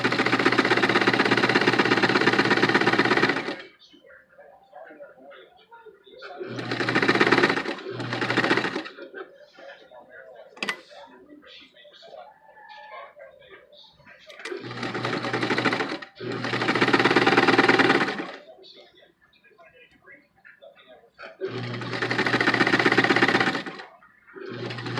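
A sewing machine stitches a fabric face mask along the presser-foot edge in four separate loud bursts of rapid, steady whirring. Quiet pauses with soft handling sounds fall between the runs.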